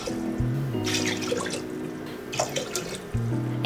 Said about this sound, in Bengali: এখন অ্যাড করে দেব পানি।